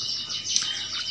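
A young jalak kebo myna bird chirps nearby in a short burst of high, thin calls, heard alone without talk.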